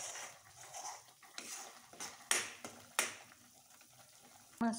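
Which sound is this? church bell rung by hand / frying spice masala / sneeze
frying spice masala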